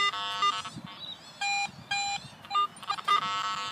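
A metal detector giving repeated electronic beeps in short tonal bursts of varying pitch, set off by steel cap boots during a coin hunt at a playground, with brief gaps and faint background noise between tones.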